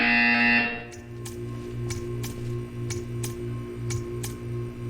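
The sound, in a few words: buzzer in the video game Portal 2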